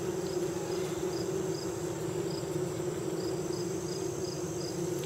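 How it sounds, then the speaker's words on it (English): Honeybees in a hive, agitated as frames are lifted out of the top box, giving a dense, steady buzzing that fills the whole stretch at close range with no talk. "I can tell from the pitch of the buzzing that they're a little bit disturbed from pulling frames out of the top box"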